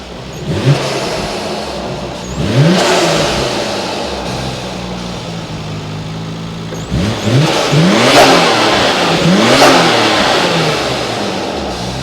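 A lightly tuned Nissan Skyline GT-R R33 V-spec with R34 turbos and swapped camshafts, revved at close range: a lumpy, uneven idle breaks into two sharp rising-and-falling throttle blips, loud and without talk.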